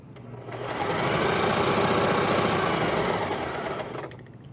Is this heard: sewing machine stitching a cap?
yes